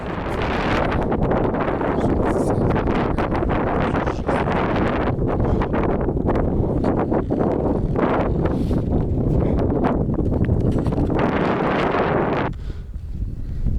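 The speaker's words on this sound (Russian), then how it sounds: "Такая метель, налетит порыв и сразу же слезу заметает." Strong blizzard wind roars continuously with heavy gusts buffeting the microphone, easing abruptly near the end, high on a mountain climb to Mera Peak.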